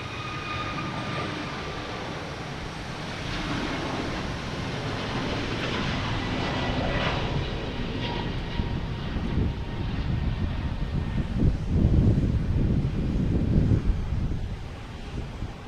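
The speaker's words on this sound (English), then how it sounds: "Here's Air Portugal heading to Lisbon," An Air Portugal Airbus A321neo airliner takes off at Boston Logan, its engine roar building steadily and loud, with rumbling wind buffeting the microphone and growing stronger toward the end.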